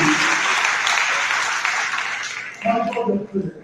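Audience at a university opening convocation applauding, a dense sustained wash of clapping from a large crowd that fades after a few seconds as a voice begins speaking.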